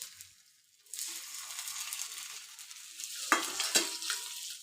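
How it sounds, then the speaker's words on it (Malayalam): After a brief quiet, two chopped ripe plantains drop into melted ghee and start a bright, steady sizzle, with a couple of sharp scrapes and clatters of stirring over the frying. "നെയ്യ് ഉരുകി വരുമ്പോൾ നമ്മൾ നുറുക്കി വെച്ച 2 ഏത്തപ്പഴം ഇട്ട് കൊടുക്കാം"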